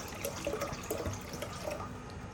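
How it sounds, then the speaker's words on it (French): Tap water runs and splashes into a salad bowl being filled for rinsing fish, a steady close trickle with scattered drips and small splashes, no talking. "ici dans un saladier, je mets de l'eau"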